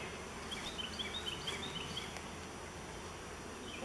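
Honey bees buzz around a hive beside a crowded colony. The hum is soft, steady and continuous and sits under faint background noise.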